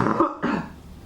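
A woman with a blocked nose coughs close by, a quick two-part cough that is moderately loud and has no speech around it.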